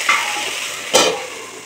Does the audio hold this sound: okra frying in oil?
yes